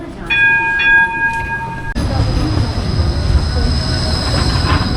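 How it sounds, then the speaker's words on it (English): A Gold Coast tram at the station squeals sharply at its wheels with high sustained tones, then gives way to a steady rolling rumble of rail cars moving through. "As soon as we enter the station, the tram leaves."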